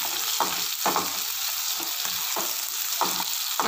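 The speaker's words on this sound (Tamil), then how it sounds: "தக்காளி நல்லா வதங்கட்டும்." Tomatoes sauté in a pan with a constant bright sizzle, while a spoon scrapes through them in regular strokes about every half second, close and clear with no speech.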